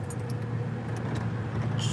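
Keys jangling at an apartment door during a hurried attempt to unlock it, with faint metallic jingles over a constant low rumble of nearby road traffic.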